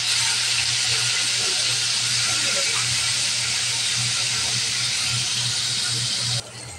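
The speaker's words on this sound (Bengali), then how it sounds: "তেল গরম হয়ে গেছে, দিয়ে দেবো মাছ।" Hilsa fish rubbed with turmeric and salt frying in hot oil in a kadai, a loud, steady, close sizzling hiss that holds evenly and drops slightly near the end.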